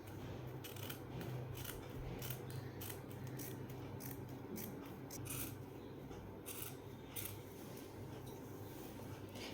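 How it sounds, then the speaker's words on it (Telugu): Scissors cut through the back panel of blouse fabric, close up, with repeated crisp snips and rustling fabric over roughly ten quiet seconds. "ఇది బ్యాక్ పార్ట్ కట్ చేస్తున్నాను ఇప్పుడు చూడండి"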